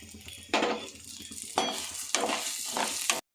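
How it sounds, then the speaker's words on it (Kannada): Split moong dal roasting in hot ghee in a pan, a steady sizzle broken by a few louder stirring scrapes as the lentils are turned, close and alone with no talking. "ಅದೇ ತುಪ್ಪಕ್ಕೆ ಹೆಸರುಬೇಳೆ ಹುರ್ಕೊಳ್ಳೋಣ."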